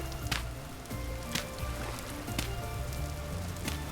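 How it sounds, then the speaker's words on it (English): Rain falls steadily in the survival game Vintage Story across a lush redwood forest, a dense patter of drops hitting surfaces with soft ambient tones beneath, even and close, without talk. "And the rain's back."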